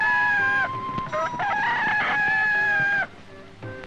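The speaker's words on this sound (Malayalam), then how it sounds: "കോഴി കൂവി" A rooster crows loudly and close in one long, drawn-out call lasting about three seconds, followed by a few short, softer clucks.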